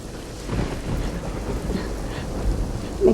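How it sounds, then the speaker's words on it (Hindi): Heavy rain pours during a thunderstorm with strong wind, giving a dense, steady wash of noise. Deep rumbles of thunder swell underneath it, with a louder burst near the end. "बाहर भी इतनी तेज बारिश हो रही है, आंधी चल रही है"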